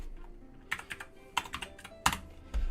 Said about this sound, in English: I keep typing in Blue Sky.